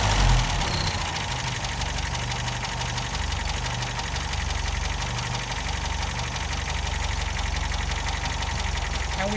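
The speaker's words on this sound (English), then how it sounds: "we should be idling at about 500 to 600 RPM, which on an engine like this is absolutely perfect" An MGA MK2 car engine idling steadily at low RPM, an even mechanical hum with faint tappety ticking, close and moderately loud throughout without pauses.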